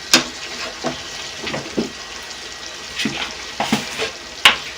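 Chicken karahi frying in a pan after tomatoes, green chillies and salt go in, with a steady sizzle broken by intermittent stirring scrapes and clinks.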